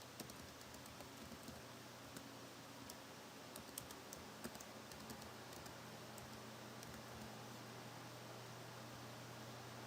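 Soft keystrokes tap out a password on a computer keyboard, a quiet irregular patter of clicks over a faint steady hiss.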